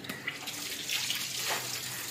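Tap water runs steadily while a bar of soap is held lightly under the stream, producing a continuous close splashing hiss with slight variations as the bar meets the flow.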